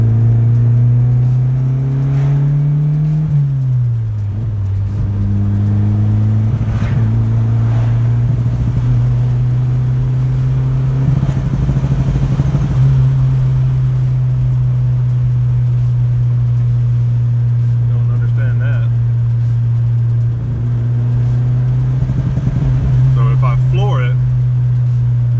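A turbocharged Honda Civic engine drones steadily while driving down the road, its pitch rising then dipping briefly early on before holding a loud, even hum, with someone talking intermittently over it.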